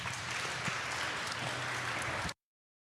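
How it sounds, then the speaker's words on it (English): Audience applause at an open house ceremony for the Winnebago Emergency Services Building, a dense, steady wash of clapping from a crowd that holds for about two seconds and then cuts off abruptly. "Let's give him a round of applause one more time."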